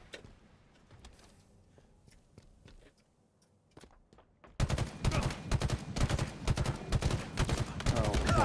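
Gunfire in the game Halo Infinite: scattered single shots at first, then a sudden loud, dense burst of rapid automatic fire that continues to the end.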